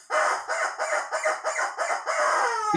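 A rubber chicken gives a loud, strained squawk made of rapid pulsing squeezes that run together into one long, wheezing honk, close and alone.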